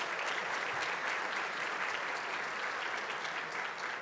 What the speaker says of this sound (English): How about applause?